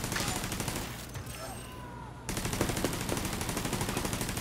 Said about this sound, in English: Tumira na yung turret ko eh.